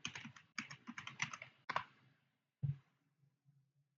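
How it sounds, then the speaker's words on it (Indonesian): Quick bursts of typing on a computer keyboard, close and clear, several rapid runs of keystrokes followed by a couple of isolated key presses in a quiet room. "Kita ketikkan web"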